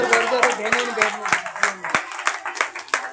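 Lively audience applause for a girl on stage at a children's Independence Day program, with dense, rhythmic clapping close by and voices mixed in throughout.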